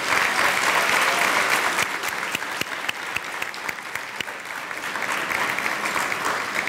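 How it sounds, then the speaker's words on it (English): An indoor crowd at a 2014 high school graduation applauds steadily, a dense wash of clapping with sharper individual claps standing out throughout. "Let's give all of them a round of applause"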